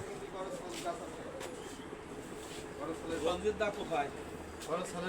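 At a bird park in Batikamari, Muksudpur, doves coo in soft repeated low calls at a moderate distance, mixed with other faint birdsong while people talk nearby.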